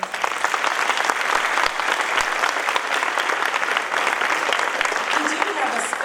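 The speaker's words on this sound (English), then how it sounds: "Can we give them one more applause?" Graduation ceremony audience applauding the speakers, a full, continuous burst of clapping from a sizable crowd lasting around six seconds with a few voices mixed in.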